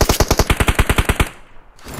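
Rapid automatic gunfire in the battle royale game PUBG Mobile, a dozen evenly spaced loud close shots in a quick steady burst, then a short faint tail.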